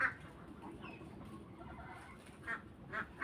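Laying hen giving short clucks and a few sharper calls at moderate distance, spaced irregularly over a quiet outdoor background.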